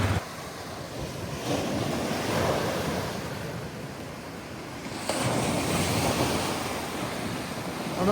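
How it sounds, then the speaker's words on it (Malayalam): Strong wind roars across the microphone by the shore, with waves surging in the background; gusts swell and ease, then pick up again. "ഭയങ്കര ശക്തമായ കാറ്റാണ് കാറ്റ് കാരണം ഞാൻ പറയുന്ന വോയിസ് അധികം ക്ലിയർ ആവത്തില്ല"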